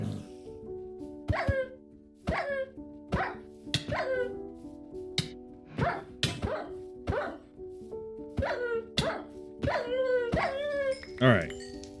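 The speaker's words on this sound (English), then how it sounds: "The wild dogs are crazy." Wild dogs in the Minecraft video game barking repeatedly: a dozen or so sharp, close barks and yips in an uneven rhythm over a steady tonal background drone.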